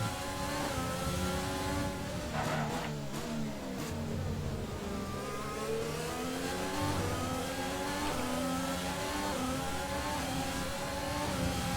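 A Formula 1 car's engine in F1 2020 revs hard and sustained, with high whining pitches that climb and fall through gear changes, loud and close and almost continuous with no talk.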